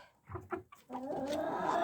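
Hens cluck close by while being fed a grain mix of sunflower seeds, oats, whole corn, wheat and compound feed, with a few short clucks followed by a steadier stretch of mixed flock chatter.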